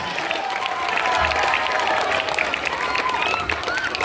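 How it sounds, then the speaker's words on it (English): Audience applause after a school performance, steady dense clapping held at an even level throughout, with a faint voice and crowd murmur running underneath. "please give a big round of applause for them"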